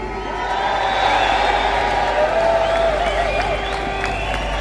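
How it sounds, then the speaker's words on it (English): A large rally crowd cheers and applauds in a sustained, dense roar with scattered whoops, loud and continuous throughout. "Let's have a massive cheer for Salwan Mamika."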